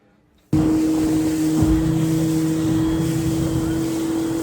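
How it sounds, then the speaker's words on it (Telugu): Speedboat on the lake at Pykara near Ooty starting its ride: the engine cuts in suddenly and holds a loud, steady droning hum with water rush throughout. "బోట్ రైడ్ అయితే స్టార్ట్ అయిపోయింది."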